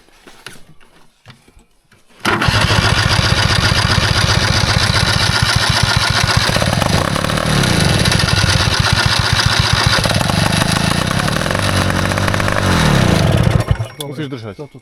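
An old abandoned bulldozer engine catches and runs loud and steady for about eleven seconds, mechanical clatter and throttle changes throughout, after a quiet start, then cuts off abruptly near the end.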